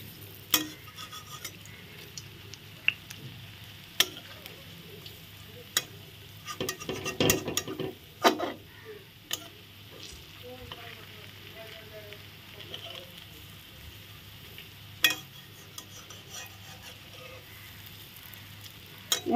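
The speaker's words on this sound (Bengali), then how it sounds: "এখন আমি আস্তে আস্তে ভেজে নিচ্ছি।" Papaya fritters fry slowly in hot oil, giving a soft, steady sizzle at low volume with occasional sharper clinks of a utensil against the pan.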